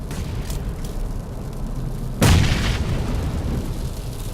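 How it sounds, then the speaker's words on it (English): A single grenade explosion in the mobile shooter PUBG Mobile gives a dull booming thump partway through, over a steady rushing game background. "So I'm going to toss another grenade or two out here to distract them."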